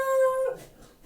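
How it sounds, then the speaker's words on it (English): A pet dog lets out a single drawn-out howl with clear tonal harmonics, then breaks into a few soft, faint whimpers as the cry fades, heard close and alone. "That's my dog."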